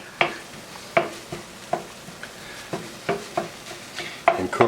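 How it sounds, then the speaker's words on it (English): Cooked ground beef for a Japanese soboro donburi being stirred and broken up in a pan, with a steady series of scraping, clacking utensil strokes about once a second over a soft background sizzle. "I'm just going to make sure it's crumbled up really well"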